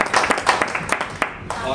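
Applause breaks out as a speaker walks onto the stage at a one-day leadership programme event: brief, uneven bursts of hand claps from an audience, with talking mixed in.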